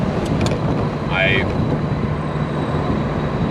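A 1990 Saab 900 Turbo Convertible cruises at speed with a steady engine drone and road and wind roar from inside the cabin, while someone talks over it.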